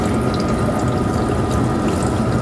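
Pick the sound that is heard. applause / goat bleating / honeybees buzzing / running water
running water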